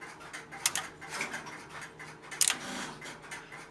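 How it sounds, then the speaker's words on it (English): Line finder in a Western Electric 1A1 key telephone system running in the background, giving repeated bursts of clicking and ratcheting relay chatter over a steady mechanical hum. "You will also hear the line finder in the background."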